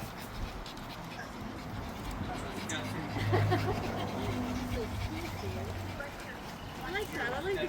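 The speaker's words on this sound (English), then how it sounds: "It's a dog park in here." Dogs at a neighborhood puppy play day pant and whimper with scattered barks and scuffles, fairly faint, under steady conversation from nearby people.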